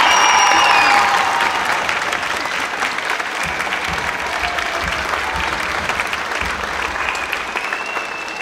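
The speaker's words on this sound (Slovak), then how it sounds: "Tak ešte raz veľký potlesk." Loud, sustained applause from an audience at a school's 40th anniversary program in Vranov nad Topľou, steady clapping filling the whole stretch without pause.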